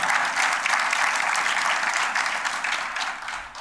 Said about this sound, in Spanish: Un aplauso a Waldo, que está por ahí